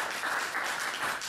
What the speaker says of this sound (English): Let's give Dan a round of applause, please.